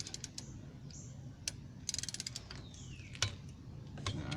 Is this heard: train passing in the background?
no